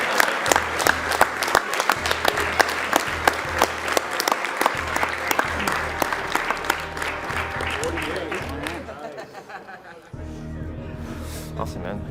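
A live audience at a charity speedrun marathon event applauds steadily and loudly for a Super Metroid run, a dense wash of clapping over about ten seconds that thins slightly near the end, with cheers and talk mixed in.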